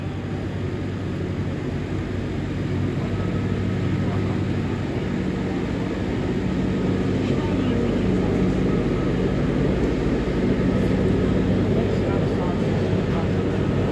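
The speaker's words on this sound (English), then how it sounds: "by pressing the hand throttle down, you increase the engine revs to 1500 RPM" A JCB Loadall 542-70 Agri Pro telehandler at the LAMMA 2024 show runs its engine steadily at raised revs set by the hand throttle, a continuous loud drone with someone talking over it.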